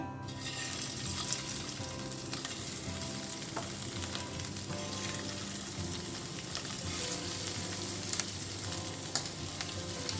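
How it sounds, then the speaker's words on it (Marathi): Prawns frying in a little oil in a pan over medium flame for Goan prawn balchao, a dense continuous close sizzle with scattered crackles and pops and occasional utensil clicks, with no voices. "आता आमकां सुंगटां आनी फ्राय करून घेवंक जाय."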